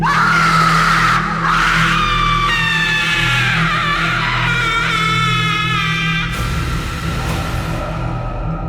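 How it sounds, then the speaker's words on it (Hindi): A woman's long, piercing scream, rising and wavering over a steady low rumble, loud and sustained before breaking off near the end. "उस औरत की चीखों की आवाज अब और तेज होने लगी थी।"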